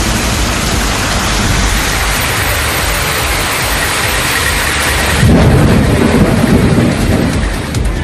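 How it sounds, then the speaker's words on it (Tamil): Heavy rain pours steadily in Tamil Nadu with a dense, loud hiss, and deep thunder rumbles underneath; the downpour grows heavier partway through. "சுமார் 2 மணி நேரமாக கொட்டி தீர்த்த கனமழையால் முக்கிய சாலைகளில் மழைநீர் பெருக்கெடுத்தது"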